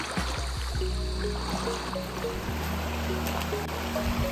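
Clear river water rushing over a shallow river crossing in Apayao: a steady close babble and trickle of flowing water, fairly quiet and unbroken, with no speech.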